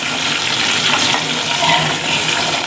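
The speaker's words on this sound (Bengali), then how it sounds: "তো আলুটা আমি ভাজা নিতেছি" Potatoes fry lightly in a pan, giving a steady, close, broadband hiss that stays even throughout with no talking over it.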